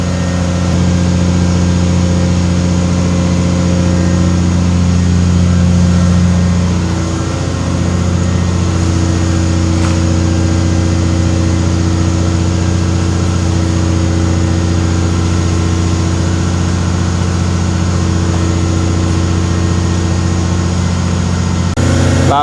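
A concrete mixer lorry's diesel engine runs steadily nearby with a low, droning hum, idling after unloading on an Irish farm, with a brief dip in load partway through before it settles back to a constant rumble.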